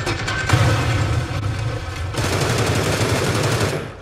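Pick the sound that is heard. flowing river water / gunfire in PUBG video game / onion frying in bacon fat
gunfire in PUBG video game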